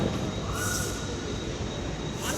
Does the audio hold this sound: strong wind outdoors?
no